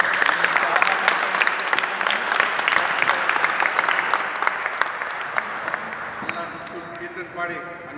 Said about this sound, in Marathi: सगळ्यांनी एकदा जोरदार टाळ्या वाजवल्या